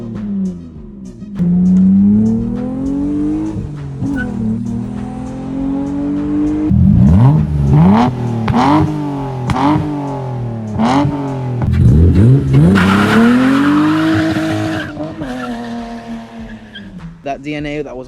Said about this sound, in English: I've put an NVIDIA catback on it.